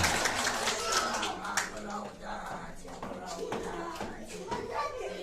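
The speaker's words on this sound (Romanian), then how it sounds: "aplaudați-vă, aplaudați-vă" Scattered, uneven clapping from a small group of kindergarten children at a New Year's party, mixed with chatter and voices in a room.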